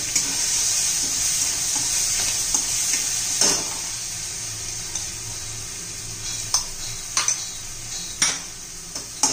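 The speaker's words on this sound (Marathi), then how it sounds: "त्यात आता हिरवी मिरची पण आपण चांगली परतून घेऊया।" Ground green chili paste frying in a pan, a steady close sizzle running throughout, broken by occasional sharp spoon taps and scrapes against the pan.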